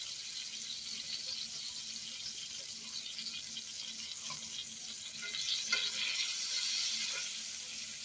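Shrimp and roasted garlic paste sizzle in a frying pan as a constant soft crackle, quiet at first and then briefly rising with a few louder spits, with no talk over it.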